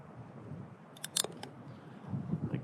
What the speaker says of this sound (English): I like to cut these tag ends really close to that knot